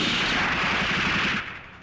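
Rapid gunfire bursts from a Hindi film action scene, a loud continuous volley of shots with a rattling, machine-gun-like rhythm that holds steady and then drops off abruptly near the end, with no talking.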